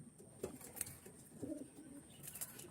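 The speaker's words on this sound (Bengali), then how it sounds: "ছোট্ট পায়রা দেখুন" Small pigeons give a few soft, low coos in a faint, noisy setting, the calls coming in short separate bursts rather than a continuous song.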